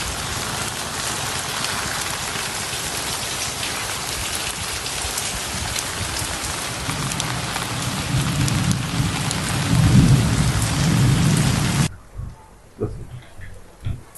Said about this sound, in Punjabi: ਦੋਸਤੋ ਤੁਸੀਂ ਦੇਖ ਸਕਦੇ ਬੜੀ ਬਾਰਿਸ਼ ਚੱਲ ਰਹੀ ਬਾਹਰ ਜੀ ਦਰਿਆ ਵਿੱਚ